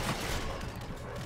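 Rapid gunfire bursts in the Infinite Warfare campaign, a brief dense fusillade of overlapping shots that is fairly faint and fills the whole short moment.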